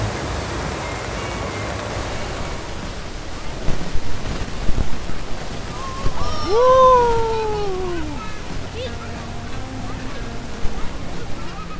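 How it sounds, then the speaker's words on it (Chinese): Ocean waves surge into Thunder Hole, a small sea cave on the rocky coast of Acadia National Park, as a continuous loud roar with a swelling rush midway and a brief tonal call over the surf. "当海浪冲进末端的小洞穴时"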